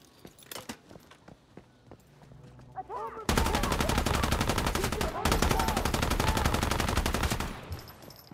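Automatic gunfire in the video game Once Human: after a few scattered shots and footsteps, a long, loud, dense burst rattles nonstop for about four seconds, breaks briefly, then resumes before cutting off.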